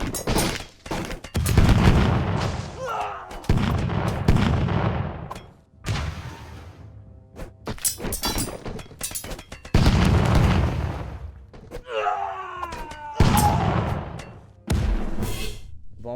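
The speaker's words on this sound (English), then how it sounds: "Bombarder guy was just blowing himself up the entire tournament" Bombs exploding in Totally Accurate Battle Simulator during a custom unit tournament battle, a series of loud, booming blasts spaced a second or two apart, each with a sharp crack and rumbling tail, plus fizzing pops between them.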